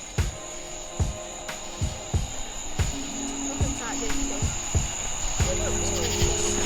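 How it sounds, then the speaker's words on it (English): Crickets chirp steadily outdoors on a dark night at a camp, a continuous high trill running under faint background noise and periodic low thumps. "Do y'all hear them crickets?"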